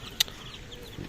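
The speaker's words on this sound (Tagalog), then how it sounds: "Ayun mga idol, ito ang aming sisiw." A single short, faint peep from a chick on a game farm, then soft rustling and quiet background noise.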